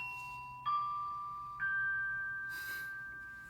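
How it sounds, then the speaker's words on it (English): School break bells ring out during the day, a series of sustained electronic chime tones stepping from one pitch to the next, fairly faint and distant over quiet room background with no voices. "I'm at school on a Wednesday during break, so that's why the bells are going off."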